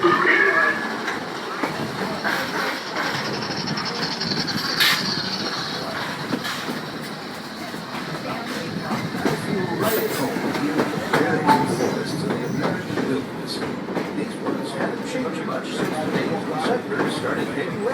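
Walt Disney World Railroad train running on its rails from Frontierland, a steady rolling rumble with faint clickety-clack under a narrator's voice throughout.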